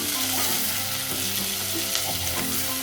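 Eggs frying in a pan of hot oil, a loud continuous sizzle with a low bubbling hum beneath it, steady throughout, no voices.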